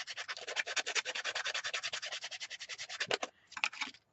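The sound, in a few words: sanding the yarn notch of a DIY drop spindle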